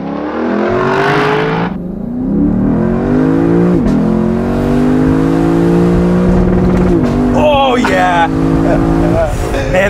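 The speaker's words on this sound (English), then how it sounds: "This is your first on-camera launch in an LC500." A 2021 Lexus LC500 convertible V8 revs hard during a launch, the engine note climbing through several upshifts, loud and close, with people talking and reacting excitedly over it.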